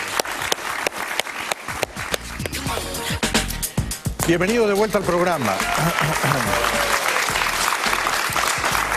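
A studio audience applauds a guest, former Colombian president Álvaro Uribe, on a talk show: sustained, loud clapping fills the room while a host speaks over it and music rises beneath.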